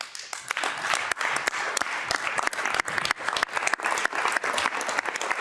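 Applause breaks out in the National Assembly of Québec, a dense, steady round of many hands clapping across a large chamber, sustained and fairly loud for several seconds with no voices on top.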